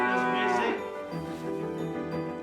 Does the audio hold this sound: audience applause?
no